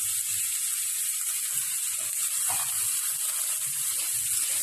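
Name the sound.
onion and green chili paste sizzling in hot oil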